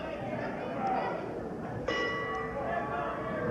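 A wrestling ring bell at a televised NWA match is struck once, a sharp ringing clang partway through, set against crowd noise and talking.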